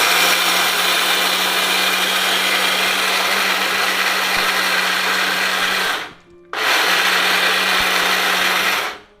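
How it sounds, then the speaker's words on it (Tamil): An electric mixer grinder of about 350 watts grinds spices into powder with a loud, steady whir and hum. The motor stops briefly near the six-second mark, then restarts for another few seconds before cutting off. "இந்த இப்போ அரைக்கிறேம்மா, பொடி பண்ணி காட்டுறேன்"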